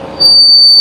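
A sun shade being rolled up in a truck window gives a thin, steady high squeak that starts partway through and holds to the end, loud and close, with no talk over it.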